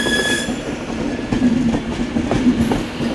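An Avanti West Coast train arrives at Manchester Piccadilly station, rumbling close by with rhythmic wheel clicks and faint squealing from the rails, loud and steady throughout.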